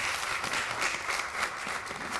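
Quiz-show audience at the Euro Ivoire Quiz, a district contest from Côte d'Ivoire, claps loudly and steadily, a bright, busy patter of many hands sustained for a couple of seconds.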